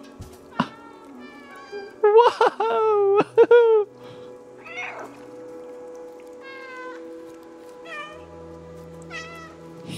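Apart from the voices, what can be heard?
cat meowing in the video game Stray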